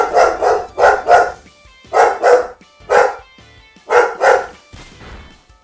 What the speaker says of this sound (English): If you hear that barking in the background, it's my dog.